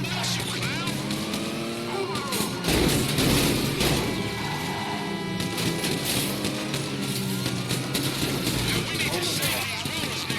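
A vehicle-mounted gun firing in GTA 5 over revving engines and screeching tires: loud, continuous, dense bursts of game noise run throughout.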